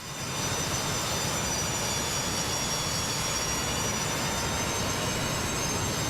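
Steady, loud roar of a Boeing 727's jet engines in Microsoft Flight Simulator 2024, broadband and unbroken with faint high whining tones held throughout.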